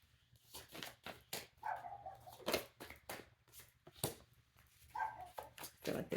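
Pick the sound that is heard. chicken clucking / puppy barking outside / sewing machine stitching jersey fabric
puppy barking outside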